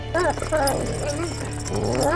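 A dog whimpers and gives short yelping barks, close and fairly loud, with rising and falling whines running through the whole stretch over a low steady hum.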